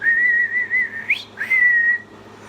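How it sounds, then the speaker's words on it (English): A shrill, wavering whistle with a brief upward swoop in the middle, then a steady high tone that fades, close and clear. "the teapot started whistling and dancing again."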